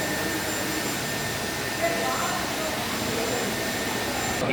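A Dyson Supersonic hair dryer blows continuously while drying hair in a Dyson store in Chennai, a steady high-speed airy whoosh, close and loud, with no pauses.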